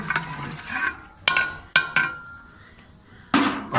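A ladle stirs chicken pulao in a large cooking pot, giving a few sharp metallic scrapes and clanks at irregular intervals, close and fairly loud over a soft background hiss.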